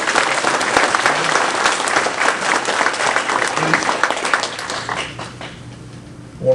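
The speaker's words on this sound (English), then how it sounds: "we should give them a round of applause for being here tonight" An audience applauds at a county commissioner candidate forum, with steady, dense clapping that fills the room before thinning out toward the end.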